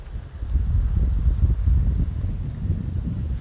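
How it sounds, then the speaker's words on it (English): Strong wind gusting across an open disc golf course, a steady low rumbling buffet of wind noise against the microphone lasting the whole stretch. "It is at least a 25-mile-an-hour wind that is almost directly in their face on the tee."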